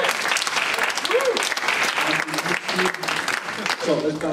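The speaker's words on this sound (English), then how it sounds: "Maybe we can give them a round of applause." Church congregation clapping fills the space, steady and lively, with voices calling out and talking over the applause.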